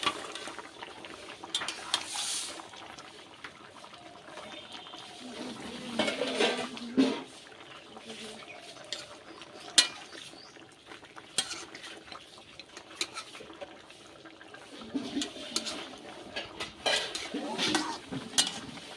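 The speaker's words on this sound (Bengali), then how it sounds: "এবার মাছগুলো দিয়ে দিচ্ছি কচুর মধ্যে" Rohu fish pieces go into a pot of taro curry with spices: intermittent scraping, clinking and stirring of a utensil against the pot, with soft bubbling and bursts of activity spread across a fairly quiet background.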